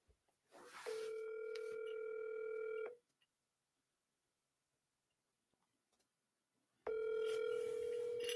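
A phone call rings out unanswered: a steady electronic ringback tone sounds for about two seconds, falls silent for roughly four, then starts again, close and clear with no talking.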